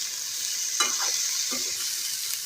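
Cauliflower and potatoes frying in a pan, a steady bright sizzle throughout with a few soft stirring scrapes near the middle, close and continuous.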